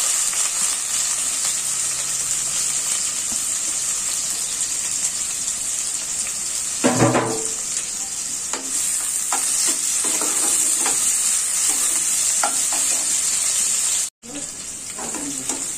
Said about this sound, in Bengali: এখন পেঁয়াজ কুচি দিচ্ছি